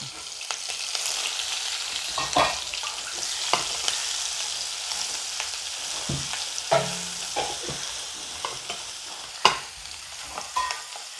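Crushed garlic and green chili frying in hot oil, a constant sizzle punctuated by repeated scraping stirs and occasional sharp taps of a utensil on the pan, close and without speech.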